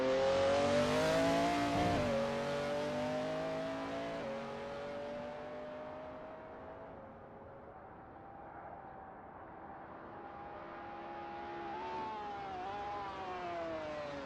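A McLaren F1 GTR race car in a racing video game at Daytona, its engine droning steadily with rising and falling revs and gear shifts, loud and close throughout with a brief dip in pitch early on.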